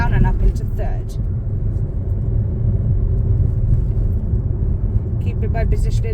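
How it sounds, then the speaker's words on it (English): A learner driver's car engine rumbles steadily while the clutch goes down and the gearbox shifts up into third, slowing toward a 20 zone on a road home from work, with the driver talking over the continuous low drone. "so I'm going to clutch down and up into third."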